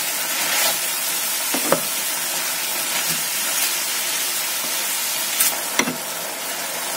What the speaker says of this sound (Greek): Ανακατεύουμε και τσιγαρίζουμε